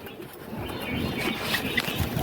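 Pet budgerigars chirp and tweet in quick, overlapping bursts while being fed water spinach leaves, a busy flock heard fairly close with a steady background hiss.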